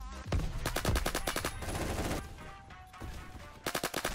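Bursts of FAMAS rifle fire in a video game, a rapid string of loud close shots followed by a pause and another quick volley at the end, with no talking.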